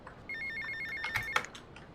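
A phone rings in the video game GTA Vice City, with a quiet repeating electronic trill followed by a few short clattering sounds over low game background.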